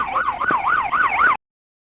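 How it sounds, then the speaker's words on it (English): A police car siren wails in a rapid rising-and-falling yelp during a highway pursuit, loud and close for over a second before cutting off abruptly into silence. "Sirens blare"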